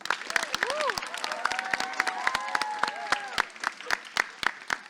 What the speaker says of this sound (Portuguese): Então nós vamos aplaudir todo mundo agora.